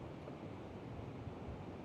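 During a typhoon, heavy surf and strong wind roar steadily at Songdo beach in Busan, a dense, unbroken rush of waves and gusts.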